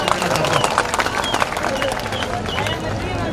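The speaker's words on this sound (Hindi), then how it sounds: "आप गहलोत साहब का तालियां बजा के स्वागत अभिनंदन करो" A crowd at a Rajasthan political rally for Chief Minister Ashok Gehlot applauds and cheers in a loud, lively burst of clapping mixed with crowd babble and a voice over it.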